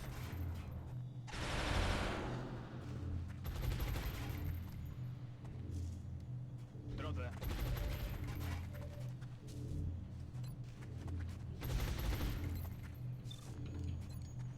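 Automatic weapon fire from a SHIV robot unit in the strategy game XCOM Long War comes as a couple of loud rattling bursts over a constant low game background hum, with no one talking.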